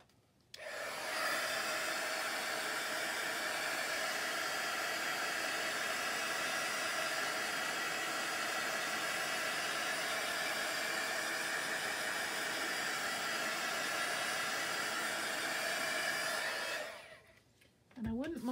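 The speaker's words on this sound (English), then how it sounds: "let me hit that with the heat gun." A heat gun blows hot air in one long, steady, loud whooshing roar for about sixteen seconds, starting abruptly and cutting off near the end.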